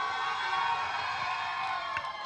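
A lively crowd at a Pepsi anthem launch event cheers and shouts continuously, a dense sustained roar with whoops rising over it.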